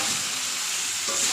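Catla fish head and fried potatoes sizzle steadily in hot oil with spices as they are stirred, a continuous close frying hiss with a slight scrape of stirring near the end.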